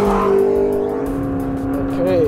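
McLaren 650S Spider sports car coming onto the front straightaway at Chuckwalla Race Circuit, a loud, close engine roar rising in pitch as it accelerates, with someone talking over it.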